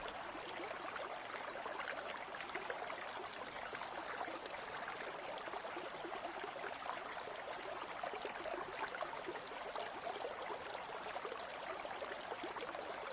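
A river stream flows along the riverside as a steady, faint, even rushing wash that continues unchanged from start to finish, with no voices.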